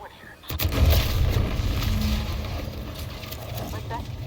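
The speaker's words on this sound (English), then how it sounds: "What's that? An explosion?" A heavy explosion booms in The Outer Worlds 2, a sudden loud blast followed by a long rumbling decay, with a voice speaking over it.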